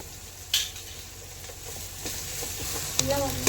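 Onions frying in a pan for a Sunday biryani meal give a steady close sizzle with occasional stirring scrapes and clinks, mostly alone without talk.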